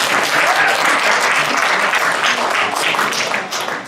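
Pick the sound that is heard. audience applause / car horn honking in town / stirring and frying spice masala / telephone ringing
audience applause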